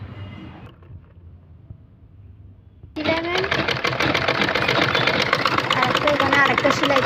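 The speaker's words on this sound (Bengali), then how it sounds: "এদিকে উপরে করে সেলাই করে দিচ্ছে এটার এদিকে সেলাই করে দিচ্ছে" A sewing machine stitching a kurti maxi dress, starting after a quiet pause and then running loud and steady with a rapid mechanical chatter, while someone talks over it.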